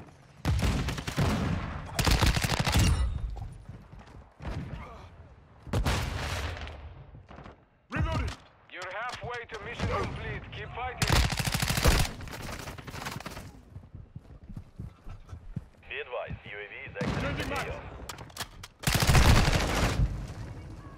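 Rapid gunfire in Modern Warfare 2 with the Honey Badger rifle, coming in dense loud bursts and volleys throughout, mixed with game effects and a player talking over the action.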